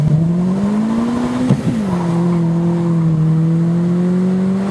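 A car accelerating hard off the line with launch control, a loud, close engine note rising steadily with a brief dip as it shifts gear, then climbing again.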